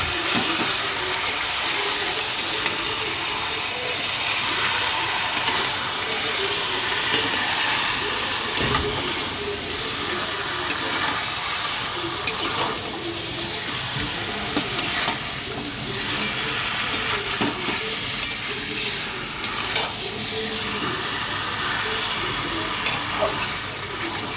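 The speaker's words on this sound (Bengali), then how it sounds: "মাংসটা করে দেন নাড়াচাড়া করে নেব" Chicken curry meat sizzling in a pan while being stirred, a loud continuous frying hiss broken by scraping spatula strokes and occasional clanks, close up with no talking.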